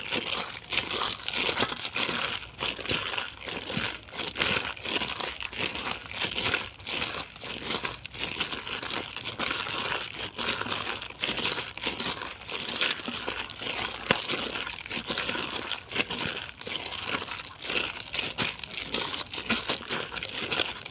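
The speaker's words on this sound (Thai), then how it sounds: "ใส่ถุงมือถุงยางเพื่อนๆใส่มือเข้าขยำให้เข้ากัน" Hands in rubber gloves knead a fermented Thai bamboo shoot mixture in a continuous close crinkling and squishing for the whole stretch, with no pauses.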